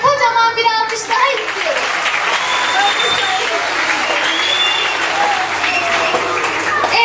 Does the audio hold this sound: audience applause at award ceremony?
yes